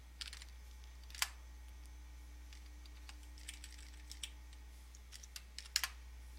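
Someone types on a computer keyboard, entering an equation, with sparse, light key clicks and a few louder taps over a quiet hum.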